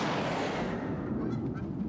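Geese gathered at Waterworks honk in a dense, noisy chorus that continues throughout, moderately loud and unbroken by any voices.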